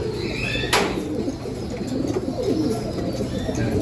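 Pigeons in a loft and aviary in Tayabas, Quezon, giving soft, low, repeated coos close by, with a brief flutter of movement.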